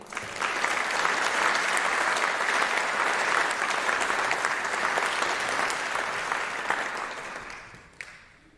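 An audience in a school hall applauds new National Honor Society inductees at Marshall High School. The clapping is dense and steady for about seven seconds, then fades out, with one last sharp clap near the end.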